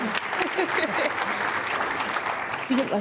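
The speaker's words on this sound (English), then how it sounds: "Let's give them another round of applause." An audience applauds panel members at a nurses' kickoff event, a continuous bed of clapping with brief voices rising over it now and then.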